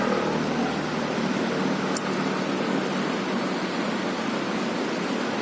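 Released dam water rushing down a river, a loud, steady broadband roar that fills the whole stretch without pause, with a brief faint click partway through.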